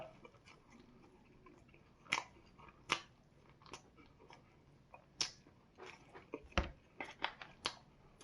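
Close, crunchy bites and chewing of Homeplus spicy shrimp fried chicken, a string of sharp crunches at irregular intervals that cluster more densely toward the end, over a quiet background.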